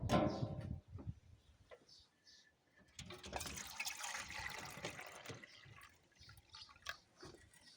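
Water splashes and trickles into homemade rabbit drinkers for several seconds, with clattering handling noises and faint movement before and after the pour.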